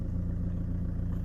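A Peugeot 205 fitted with a 2.0 HDI diesel, straight-pipe exhaust and universal air filter idles with a low, tractor-like burble, a steady rapid chug at moderate distance with no talk.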